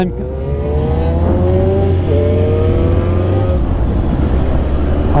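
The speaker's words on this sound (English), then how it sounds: "I am going to ride off and" Loud, close engine noise fills the clip as a motorbike rides off from a large bike meet. The engine revs and climbs in pitch, drops back, then climbs again.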